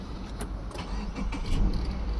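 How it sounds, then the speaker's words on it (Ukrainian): A 2017 Subaru Outback's 2.5-litre petrol engine turns over and starts, with a close, steady mechanical rumble and a few sharp transients as it catches, and no talking. "Давайте спробуємо завести автомобіль."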